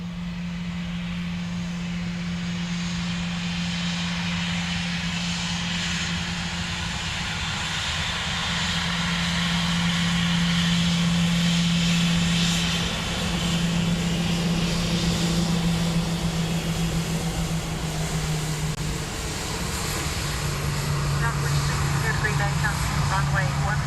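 An airliner takes off from runway 10 right at Dublin Airport, its engines a sustained, steady roar with a low hum. The sound builds and fades over the whole stretch, and a person speaks now and then in the foreground.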